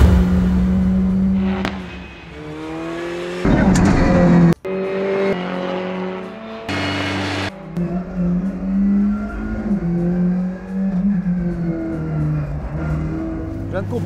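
A race car driven hard around a track by a professional driver, its loud engine revving up and dropping between gear changes, close and continuous, with voices heard now and then.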